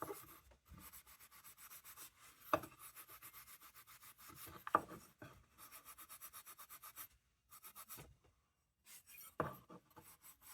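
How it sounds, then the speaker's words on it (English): Steel wool rubbed briskly over the metal of a STAR railroad inspector lantern, quiet and close, in short scratchy strokes broken by brief pauses and a few sharper scrapes. "this steel wool is bringing a little bit of sheen back to it"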